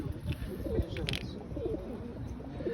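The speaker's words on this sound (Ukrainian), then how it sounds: "Хоч горіхи не продала, то хоч голубів погодую на базарі." Pigeons cooing nearby in soft, repeated low calls, with faint background bustle of an outdoor bazaar.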